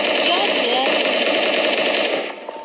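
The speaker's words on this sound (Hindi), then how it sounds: "अरे यार मुझे फायर्स लग रही है, पता नहीं कहाँ से" Rapid automatic gunfire from the PUBG video game rattles in a dense, continuous burst at close range, then fades out in the last moments.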